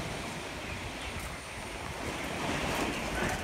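Strong typhoon wind roars and buffets continuously, a loud broadband rush that swells toward the end, with gusts hitting the microphone.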